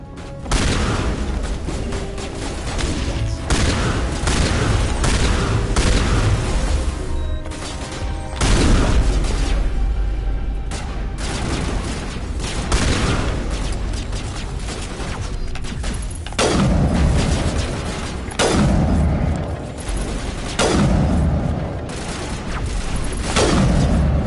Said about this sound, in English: I have to utilize some grenades.